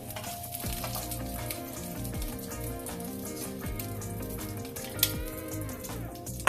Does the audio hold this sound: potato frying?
yes